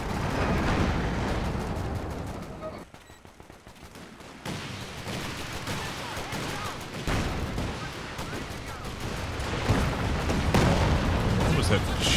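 Sustained artillery barrage in the WWII strategy game Company of Heroes 2, with dense overlapping booms and gunfire rumbling continuously, briefly thinning before swelling loud again.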